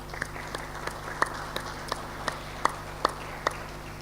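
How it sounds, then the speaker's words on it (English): Scattered applause in a university hall at a Give Back to UM Day ceremony: about a dozen sparse, distinct claps popping at irregular intervals over a quiet room tone, fairly soft and thin rather than a full ovation. "Another round of applause."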